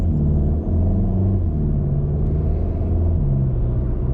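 A Hyundai Veloster passes on the road, heard as a low rumbling engine and tire drone that swells and fades steadily over several seconds from inside a moving car.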